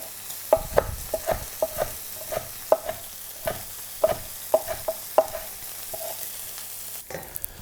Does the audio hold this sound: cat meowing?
no